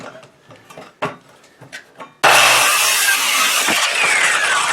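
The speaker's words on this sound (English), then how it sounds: "cut all the way across, get a handsaw out" Handsaw cutting across a thick piece of maple wood, a loud, continuous rasping stroke that starts abruptly after a few quiet knocks and handling sounds.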